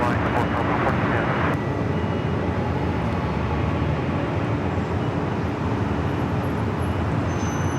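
A heavy jet on final approach to runway 24 right at Los Angeles airport, a loud sustained engine roar filling the scene, with tower radio voices talking over it.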